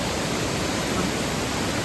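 Chirandiyar waterfall, swollen after two days of heavy rain, gives a steady, dense roar of rushing water, close and unbroken throughout, with no voices.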